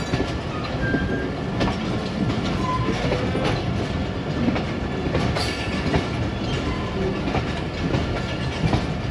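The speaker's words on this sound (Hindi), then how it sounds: "इसी के साथ हमारी ट्रेन का भी डिपार्चर हो गया है सिहाला रेलवे स्टेशन से" The Rehman Baba Express pulls out of Sihala railway station with a steady, close rumble of rolling wagons and rhythmic clickety-clack from the wheels, sustained and loud with faint squeals.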